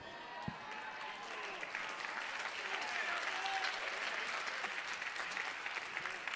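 A church congregation claps during a sermon, a faint, distant and continuous spatter of hands that holds steady throughout with a low murmur of voices beneath it.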